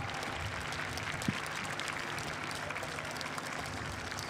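Crowd applause at the Great Yorkshire Show main ring, a steady wash of clapping and cheering that holds at an even level throughout, with one sharp single clap standing out.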